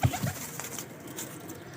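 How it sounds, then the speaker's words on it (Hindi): Dub pigeons from Ustad Badar Khan's breeding loft give a brief, soft coo right at the start, followed by quiet room ambience. "ये उस्ताद बदर खान साहब के डब वाले कबूतर हैं"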